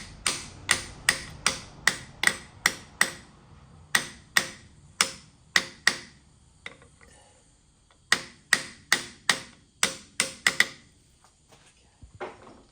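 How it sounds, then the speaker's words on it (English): Aluminium hammer tapping on a part during a mechanical fitting job, a series of sharp, evenly spaced metallic knocks in quick bursts with brief pauses between runs, close and fairly loud, fading out with a few lighter taps. "I'll just give it a tap with my aluminium hammer"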